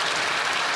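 Members of the Canadian Parliament applauding in the chamber, a dense even wash of many hands clapping at once, brief and moderately loud.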